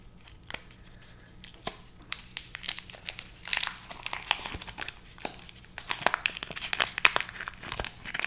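Paper packaging from Polish treats crinkles and rustles up close in irregular bursts, soft at first and growing busier and sharper toward the end, with no talking.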